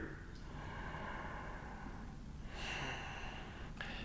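Deep breathing during a gentle beginner yoga flow: a long, soft, steady airy breath, then a sharper exhale near the end, close and quiet, with no talking.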